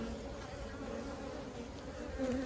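Honeybees building fresh white comb and storing nectar inside a hive, a faint, steady close-up buzzing hum with no pauses.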